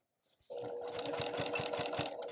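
Sewing machine running at speed while stitching a quilt, a quiet steady whirring buzz with a rhythmic pulse that starts abruptly after a brief pause.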